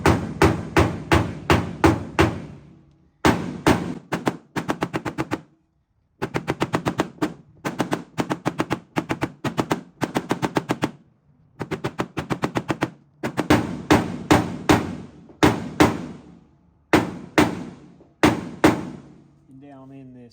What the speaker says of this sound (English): I'm going to just keep lightly tapping this